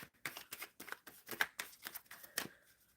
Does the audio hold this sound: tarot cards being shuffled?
yes